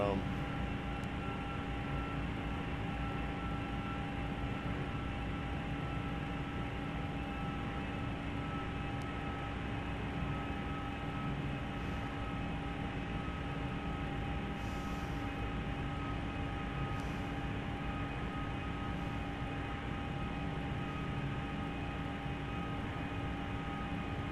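Steady cabin drone of a small airplane in flight above Philadelphia Northeast Airport, with constant engine tones and broadband hum throughout, loud and unbroken, with faint background voices.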